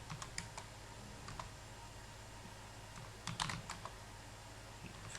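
Quiet typing of PowerShell commands on a computer keyboard, with scattered key clicks followed by a short burst of rapid keystrokes.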